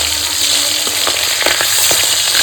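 Pieces of katla fish frying in hot oil, a loud, dense, continuous sizzle packed with sharp crackles and pops, heard close and alone.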